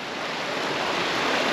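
A rain-swollen river rushing beside a tent at a wild camp in the Mournes on a calm evening, a steady, broad, close roar of flowing water with no break.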